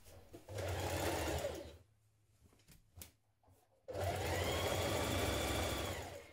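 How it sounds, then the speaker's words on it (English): Sewing machine stitching the side seam of a dress skirt, with two steady runs of fast mechanical whirring up close that are split by a short pause of light handling sounds. "stitch this seam in place."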